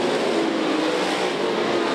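Late model race cars roar down the back straightaway of a dirt track at the 2008 Lucas Oil Late Model Nationals, a loud, dense, continuous engine blare with no gaps.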